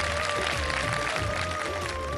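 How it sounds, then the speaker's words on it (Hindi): Studio audience applause on a televised Ramadan iftar show, a steady dense clapping wash that fills the whole stretch with a faint sustained tone beneath it. "तालियां बजा दीजिए"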